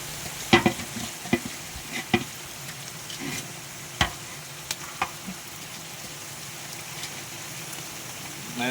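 Ginger-garlic paste, about 1.5 kg, fries for a large batch of biryani with tomatoes. A steady sizzle runs throughout, broken by sharp scraping clacks of the stirring spoon at irregular intervals.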